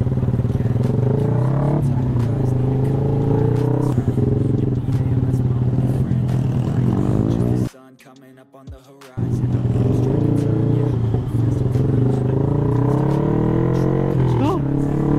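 A Yamaha trail motorcycle rides through dense traffic, its engine droning loud and steady with a brief quiet gap midway, and road clatter underneath.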